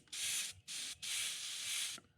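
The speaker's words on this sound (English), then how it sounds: "we're spraying some liquid" Three bursts of hissing spray from an Iwata airbrush, a short one, another short one, then a longer steady spray, close and fairly quiet.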